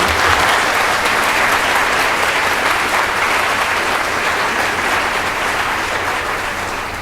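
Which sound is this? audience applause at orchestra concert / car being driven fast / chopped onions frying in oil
audience applause at orchestra concert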